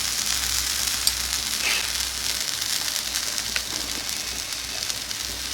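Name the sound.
eggplant with masala frying in a pan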